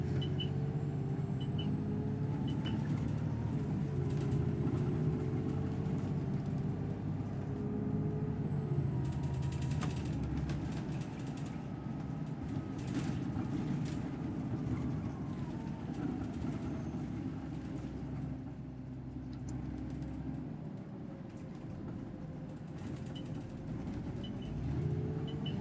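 Engine of a simulated Alexander Dennis Enviro400 double-decker bus in OMSI 2, a steady low rumble with a rising whine and faint mechanical ticks, continuous and close throughout.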